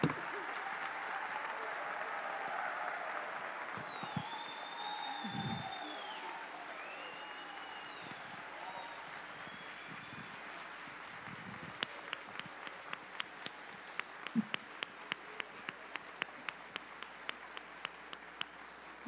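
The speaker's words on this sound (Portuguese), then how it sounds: "vamos aplaudir os educadores brasileiros" An audience at an education seminar applauds steadily for most of the stretch, the clapping thinning toward the end into scattered individual claps.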